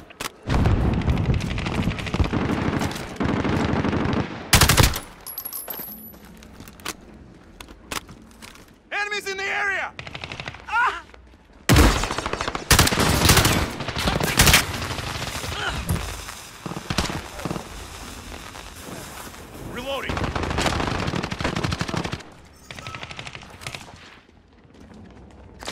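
Gunfire and explosions from the video game Call of Duty: Modern Warfare, with sharp loud bursts and cracks scattered across a busy battle mix, along with game radio callouts and other voices.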